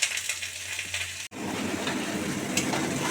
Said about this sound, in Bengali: একদম আঁচ লোয়ে দিয়ে চিকেনটা রান্না করে নেব।